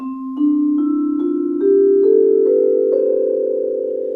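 Vibraphone notes played with the pedal fully down climb upward one after another, each left ringing so the tones overlap into a sustained, shimmering wash.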